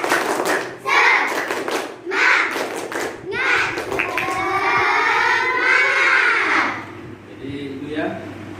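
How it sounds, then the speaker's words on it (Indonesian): Classroom of students doing a rhythmic group spirit clap at an Islamic studies lesson, sharp claps in bursts mixed with children's voices and shouts, loud and close. "Gimana tepuk semangat kalian? Tepuk semangat."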